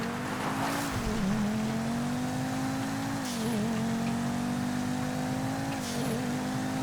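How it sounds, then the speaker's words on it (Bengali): A car is driven steadily through an open road in the game GTA V, its engine holding a constant droning hum with slight pitch dips near the second, third and sixth seconds, loud and continuous with no talking. "আমি খুবই কেয়ারফুলি গাড়ি চালাচ্ছি"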